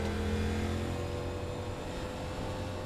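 Stock cars in the iRacing NASCAR Series at Dover run under caution behind the pace car, their engines a steady, even drone with a faint tonal hum and no talking.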